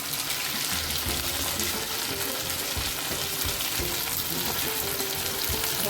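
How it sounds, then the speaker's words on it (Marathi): Tomatoes sizzling and frying in hot oil with onion that has already been sautéed, as part of a summer kurdai bhaji dish. The sizzle is steady and dense throughout, with faint stirring scrapes and no talking. "कांदा चांगला परतून झाला तेलामध्ये आता टोमॅटो घालू"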